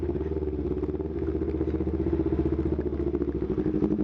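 A motorcycle engine runs steadily nearby at night with a throbbing, pulsing rumble that picks up slightly partway through.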